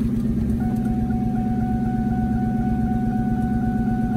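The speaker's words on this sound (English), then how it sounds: "just want to do a little cold start for y'all" A Ford Mustang GT engine idling after a cold start, a steady low rumble with a faint whine, heard alone and fairly close throughout.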